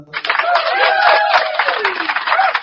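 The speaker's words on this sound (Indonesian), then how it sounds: "beri aplaus bagi Bang Juma" Studio audience applause during an Indonesian comedic debate show, a steady wash of clapping and crowd noise for about two and a half seconds with voices mixed in.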